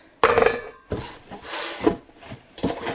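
A metal baking pan being picked up and set down, giving a few short clattering and scraping knocks at close range, separated by brief pauses, with no voices.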